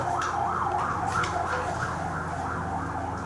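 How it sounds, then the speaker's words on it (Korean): Emergency vehicle sirens including a fire engine, a continuous wailing, rising and falling tone heard from a distance over steady traffic rumble. "이건 경찰차, 소방차, 앰뷸런스"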